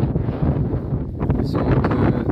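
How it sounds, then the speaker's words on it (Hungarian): Wind blows hard across the microphone outdoors, a continuous rough rumbling buffet with gusty swells and no speech. "jó szél fúj."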